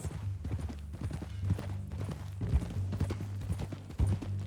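Horse hooves clip-clop in an uneven walking rhythm in Red Dead Redemption 2, close and moderately loud over a low rumbling background.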